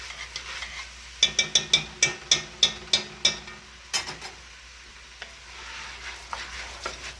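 Vegetables sautéing in ghee in a pot for New England clam chowder, a soft sizzle cut by a run of about ten evenly spaced metallic spoon taps and scrapes, then quieter stirring.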